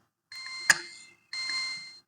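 An electronic timer sounds at the end of a Guinness world record attempt: two sustained, fairly quiet beep tones separated by a brief gap, with a sharp click partway through the first beep.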